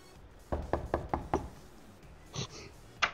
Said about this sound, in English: All you hear is knocking on the door.